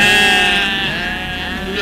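At a memorial celebration, a person's voice imitates a sheep, producing a loud, wavering, nasal bleat held close for about two seconds.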